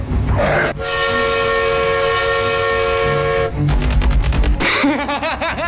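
A loud, sustained train horn blares for nearly three seconds in a Thomas.exe and Choo Choo Charles video game, then cuts off into rumbling and chaotic, warbling electronic sound effects.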